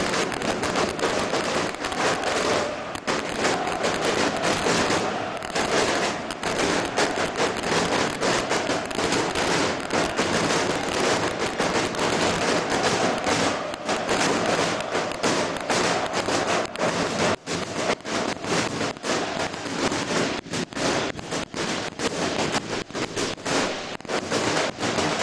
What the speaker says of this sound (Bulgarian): А сега феновете на Левски правят и заря